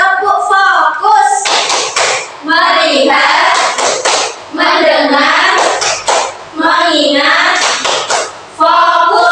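An Indonesian school class does the tepuk fokus routine, children chanting loud call-and-response words punctuated by bursts of rhythmic group clapping in short repeated phrases, close and energetic.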